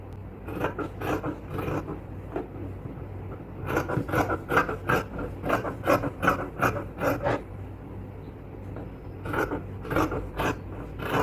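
Scissors cut cloth for a child's frock in a tailoring workroom, a series of crisp snipping strokes that come in quick bursts with short pauses between, close and clear.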